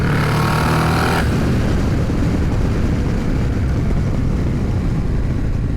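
Harley-Davidson CVO Road Glide ST with a Trask turbo, rated at 203 hp, pulls hard under acceleration. Its loud, dense engine and wind roar holds steady throughout without any talking.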